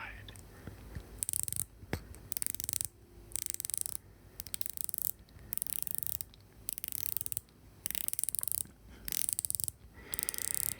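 A ceramic diver watch bezel is turned close up, producing rapid ratcheting clicks in repeated bursts with short pauses between, while a soft whispering voice runs underneath.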